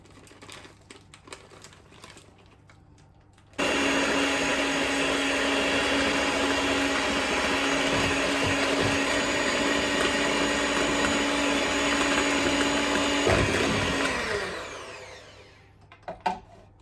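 Cake batter mixture is whisked with a steady, loud whirring drone that starts abruptly, holds for about ten seconds, then winds down and stops.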